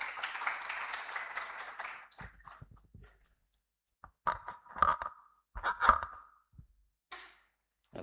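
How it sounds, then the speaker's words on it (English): A conference audience at an Africa MENA brain week event gives a short burst of applause for a keynote neurologist. It stops after about two seconds, leaving a quiet room with scattered clicks and small handling noises. "Round of applause."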